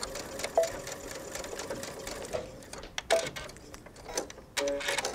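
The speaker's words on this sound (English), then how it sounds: "The last thing I'm going to do here is just stitch a couple stitches right across" A domestic sewing machine runs a short line of stitches across the top corner of a jacket facing, a quiet, fast mechanical whir with small clicks and brief pauses.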